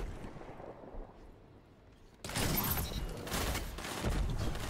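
Sniper rifle fire in a competitive first-person shooter match, with a sudden loud burst of dense gunfire and explosive noise cutting in halfway through after a quieter stretch of game ambience.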